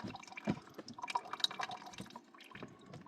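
Water dripping and trickling from the water feed during agate carving, an irregular run of close drips and small splashes against a quiet workshop background.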